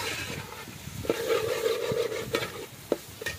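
Quail meat fries with sautéed garlic, onion and tomato in a pan, giving a moderate sizzle under scraping stir strokes, with a brief steady hiss and a few sharp knocks of the spoon.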